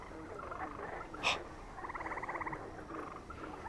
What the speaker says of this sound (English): Those are frogs.